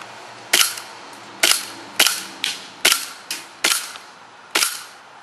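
An airsoft Desert Eagle pistol powered by CO2 fires in semi-automatic mode, eight sharp snapping shots at irregular intervals of roughly half a second to a second, each crisp and close with a short decay.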